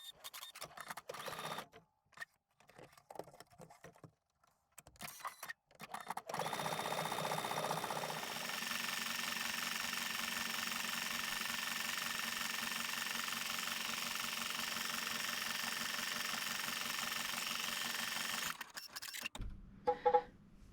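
An embroidery machine stitches the fill of a free-standing lace panel for an apron, with a steady mechanical whir and rapid needle clatter that runs continuously for about twelve seconds after some brief handling noises.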